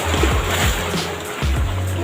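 Sea waves wash over a rocky shoreline in southern Leyte, a loud continuous rush of surf and splashing up close with a low rumble underneath.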